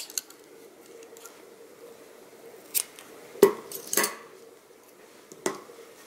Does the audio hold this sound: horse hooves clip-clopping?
no